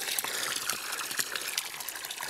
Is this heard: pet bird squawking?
no